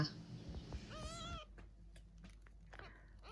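A cat gives a single clear, drawn-out meow at a veterinary clinic in France, where it was brought for an emergency birth. The meow is close and moderately loud, amid soft room noise and faint rustling.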